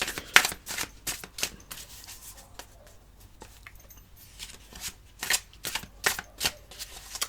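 Tarot cards are shuffled in short crisp riffling bursts, close and fairly quiet, with pauses between flurries and no talking.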